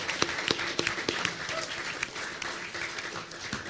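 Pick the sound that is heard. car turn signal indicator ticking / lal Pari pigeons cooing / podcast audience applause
podcast audience applause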